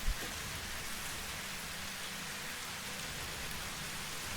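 Steady, heavy rain pours down in a dense, continuous hiss with a low rumble underneath, unbroken from start to finish, in the video game Satisfactory.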